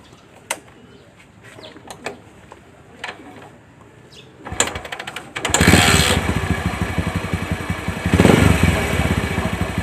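A Bajaj CT 100 motorcycle with a worn 6003 stator bearing starts up after a few quiet seconds of birds cooing nearby, then runs loud and close with a rough, grinding idle and a revving swell near the end.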